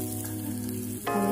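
Mango murabba is stirred slowly in a pan, giving a soft, steady sizzle and bubbling under a constant background hum, brief and close.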